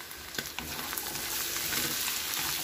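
Carrots and potatoes fry with minced meat in a pan, a busy close sizzle with sharp stirring clatters at the start. The crackle settles into a steady hiss, with no one speaking.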